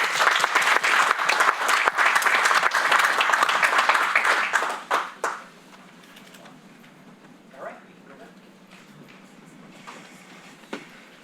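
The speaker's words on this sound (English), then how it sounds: "Let's have one more round of applause for Kristel." At a Yuba City council meeting, the audience gives a loud, full round of applause that lasts about five seconds and then stops abruptly, leaving quiet room tone with a few faint stray sounds.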